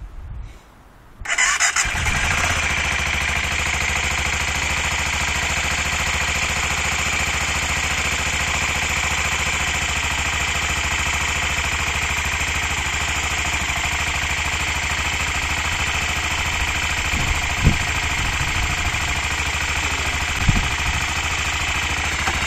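A 1997 BMW F650 ST motorcycle engine cranks and catches after a brief starter whir, then settles into a loud, steady idle heard close up, with a couple of small bumps near the end.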